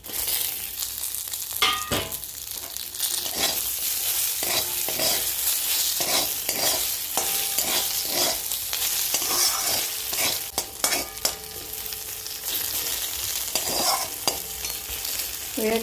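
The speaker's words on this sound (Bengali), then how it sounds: "এরপরে আমি ভাজা বেগুনটা আমি দিয়ে দিলাম।" Fried eggplant and fried neem leaves are stirred together in a pan, close up: a steady crackling sizzle runs throughout, broken by repeated scraping and clanking strokes of the spoon against the pan, with no one talking.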